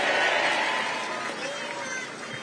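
An audience at a Democratic Party political gathering gives dense, steady applause that fills the space and fades slightly toward the end, with voices mixed in.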